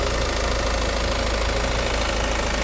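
A car engine with a blown head gasket runs with compression leaking and exhaust escaping, making a loud, steady, rough churning drone without pause, with no voices.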